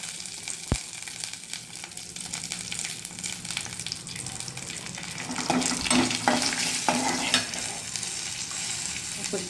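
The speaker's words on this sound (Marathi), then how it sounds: "कढीपत्ता पत्ता हलवून घ्यायचं त्याच्यामध्ये थोडीशी हळद" Curry leaves and a pinch of turmeric stirred in hot oil for a cabbage dish, busy crackling sizzle with spoon scrapes and a sharp tap early on, louder toward the middle.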